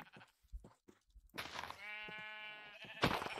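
Sheep bleat in the Minecraft video game, a drawn-out, wavering bleat heard up close after some brief faint noises.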